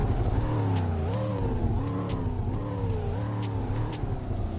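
The engine of a 1969 Dodge Coronet 500 hardtop in a Roblox driving game revs repeatedly, a loud close burbling V8-like tone rising and falling in several surges over a steady rumble.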